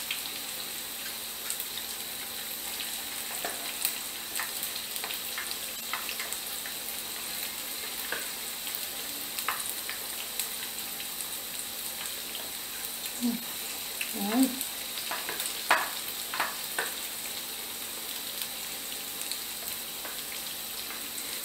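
Battered cauliflower and romanesco broccoli frying in a pan, giving a steady soft sizzle throughout with a few louder crackles and pops near the middle, close by.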